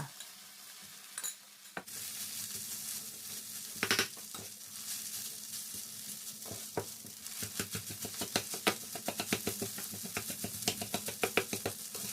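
Cooked rice being stir-fried with shrimp paste in a pan for Thai khao kluk kapi, a steady close sizzle with repeated scraping and stirring strokes of a utensil, growing busier and more rhythmic toward the end.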